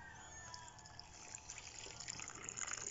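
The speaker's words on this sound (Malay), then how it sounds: "Kita siram air larutan daripada dengan menggunakan pupuk NPK 16 tadi." Water with dissolved NPK 16 fertilizer poured over bougainvillea cuttings, a faint, continuous trickling and splashing that grows slightly busier toward the end, with no voices.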